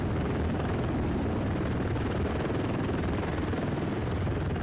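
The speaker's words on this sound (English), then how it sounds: "The two helicopters used most often are either a VH-3D Sea King model or the smaller" A presidential transport helicopter's rotor thuds in a dense, steady roar that stays loud and close for the whole stretch.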